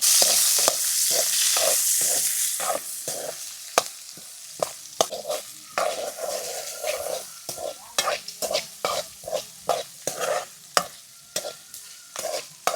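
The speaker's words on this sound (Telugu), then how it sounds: "ఉల్లిపాయలు అయితే నీట్గా వేగిపోయినాయి చూసారు కదా" Onions, green chillies and curry leaves fry in a pan with a bright, steady sizzle that fades a little, while a spoon clacks against the pan in quick, repeated knocks, close up and with no voices.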